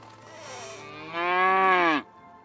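A cow in a video game gives one clear, close, low moo that swells louder midway and cuts off abruptly, heard alone with no talking.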